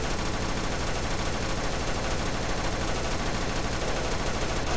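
Gunfire in the video game Boris Russian Bear comes as a dense, unbroken stream of rapid automatic shots, loud and continuous for the whole stretch.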